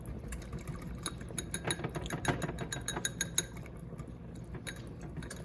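A cornstarch slurry being whisked in cold chicken broth gives a rapid, faint run of light metallic clinks and ticks against a bowl.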